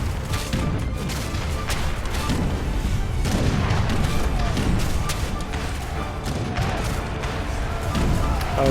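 Cannon fire in a real-time strategy game battle with infantry, a steady stream of booms and thuds mixed with battle din, and a commentator talking over it.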